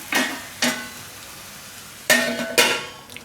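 Spinach and eggplant curry stirred in a pan on low gas, four short scraping sizzle bursts from the spoon spaced apart, close and fairly loud with quiet gaps between.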